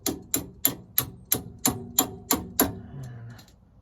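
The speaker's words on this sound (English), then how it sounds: "tap the bolt out on the other side" Nine sharp, evenly spaced hammer taps ring out on a bolt being driven out of a 2016 Thor ACE 29.3 motorhome's suspension, then the metallic ringing fades into a brief low hum.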